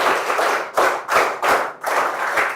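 A group of children clapping together in a classroom to congratulate a student, producing loud, close rhythmic bursts of applause with brief gaps between them.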